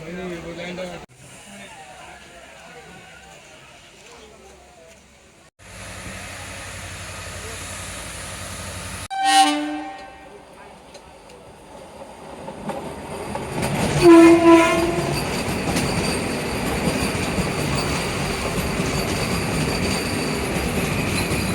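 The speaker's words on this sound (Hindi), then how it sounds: "दोस्तों हावड़ा वंदे भारत ये हम लोग को ओवरटेक किया है दोस्तों" The Howrah Vande Bharat express overtakes a passenger express train, heard from inside the slower train as steady rumbling and clatter, a sharp horn blast, then a louder rush of the passing train with wheel noise and squeal, with someone speaking throughout.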